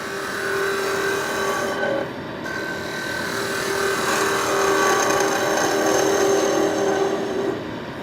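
A woodturning tool cuts along the outside curve of a bowl on a lathe, giving a steady, continuous scraping hiss over a constant motor hum that runs for the whole stretch, loud and close, with one short dip partway through.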